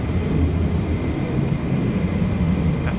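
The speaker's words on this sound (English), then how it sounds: "F-35." F-35 fighter jet flying high overhead near an air base, a continuous distant rumbling roar that stays steady and fairly loud throughout.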